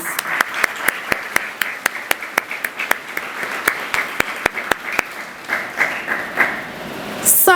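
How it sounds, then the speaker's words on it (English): At a high school graduation and awards ceremony, the audience claps in a loose, moderately sized round, with individual sharp claps standing out distinctly and a brief louder burst at the very end. "Join with me, everyone, as we applaud the success of all these awesome young"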